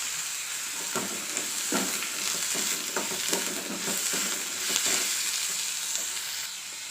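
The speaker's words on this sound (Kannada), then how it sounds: "ಎಣ್ಣೆ ಹಾಕಿ ಫ್ರೈ ಮಾಡ್ಕೊಬೇಕು" Green chillies, onion and garlic sizzling in oil in a pan, a steady broadband fry with intermittent scraping stirs, close and continuous without talk.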